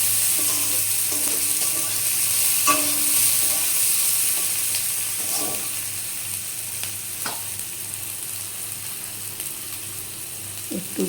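Chopped onions fry and sizzle in a pan with salt added, a steady bright hiss throughout and occasional scraping knocks as they are stirred, close and fairly loud with no talk.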